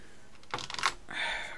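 Computer keyboard keys pressed a few times in quick, close-up clicks while entering an editing shortcut during video compositing, with no voices.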